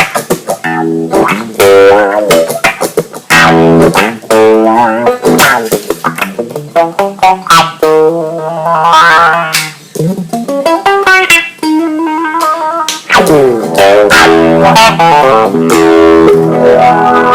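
Electric guitar played through a Dunlop Cry Baby 535Q wah pedal set to mode 5, with a Clarostat pot upgrade, giving loud strummed chords and riffs with sweeping filtered tones and pauses between phrases.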